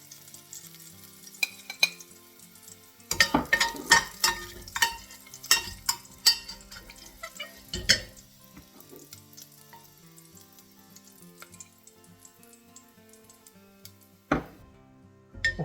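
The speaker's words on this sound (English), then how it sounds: "once the pancetta's gone nice and crispy, we're just going to remove the pancetta from the pan, but we're going to leave the fat in there" Crispy pancetta lifted out of a pan of sizzling rendered fat, with a steady low frying hiss under sharp clinks and scrapes of a utensil against the pan, close and fairly loud in bursts.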